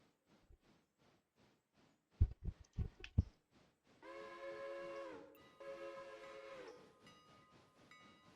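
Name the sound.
passenger train passing, from video game Railroader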